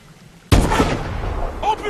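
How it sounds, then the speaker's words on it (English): A single loud gunshot bursts out in the video game Call of Duty: Advanced Warfare, booming and then decaying into a rumbling tail, followed by a brief electronic chirp in the game soundscape. "Open fire when we're in position, Alona."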